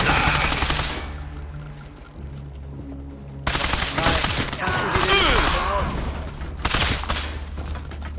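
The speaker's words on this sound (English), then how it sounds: "I don't mind the guns blazing here, but like this gun is very bad" Gunfire in Sniper Elite 5 rattles in dense rapid bursts over a rumbling battle backdrop, loud and close, with a brief pause before a second heavy volley.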